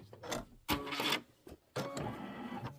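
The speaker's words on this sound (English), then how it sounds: "And then we're going to be doing all of our satin stitching." An embroidery machine does satin stitching in a 5x7 hoop: loud, buzzy mechanical bursts start and stop abruptly, separated by short quieter gaps.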